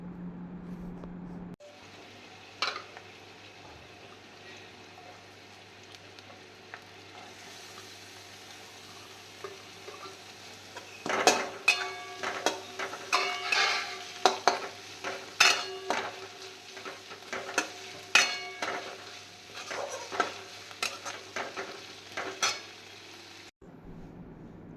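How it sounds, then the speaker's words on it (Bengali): Chopped onion fries with cumin in a pan with a faint steady sizzle. About halfway through, a run of sharp metal spatula clacks and scrapes against the pan starts as it is stirred. "এবার পেঁয়াজটা দিয়ে ভালো করে ভেজে নেব, তারপরে কিন্তু আমি রসুন আর লঙ্কাটা দেবো।"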